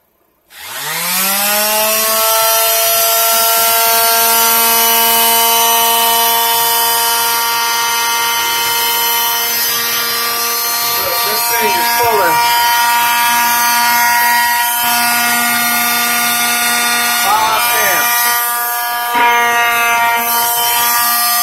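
A small electric sander starts up and runs loud and steady for about twenty seconds, a constant buzzing motor whine with a strong drone and brief wavering moments, nearby and alone.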